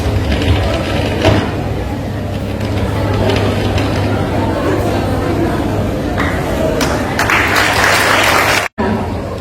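An audience at a college Ghalib celebration applauds, a loud, dense and sustained clapping that fills the room, with some voices under it, before it cuts off abruptly near the end.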